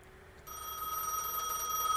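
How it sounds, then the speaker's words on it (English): A telephone starts ringing in the Gas Station Simulator video game, a bright, shrill electronic bell that begins abruptly after a brief quiet moment and keeps ringing steadily, close and clear. "Let's go answer that phone."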